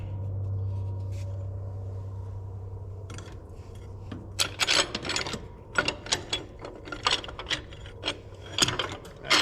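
Crank being turned by hand on a John Deere 4840 tractor engine during an overhaul, giving a run of metallic ratcheting clicks and clanks over a low hum. The clicks come close and fairly loud in the second half.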